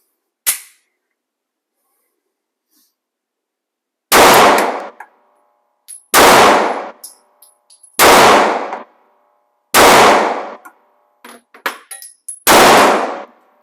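Five sharp 9mm pistol shots with hollow point rounds, four at a range target and the fifth into ballistic gel, ring out loud and close after a quiet lead-in, spaced about two seconds apart, each with a brief ringing tail, a few small clinks between.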